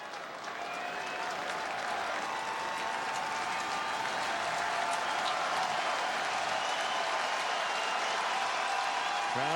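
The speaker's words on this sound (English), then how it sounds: "Crowd getting into it." A baseball stadium crowd at a Brewers vs. Cubs game cheers and applauds, a sustained roar with clapping that builds slightly and stays loud throughout, heard at a distance as a broad wash of sound.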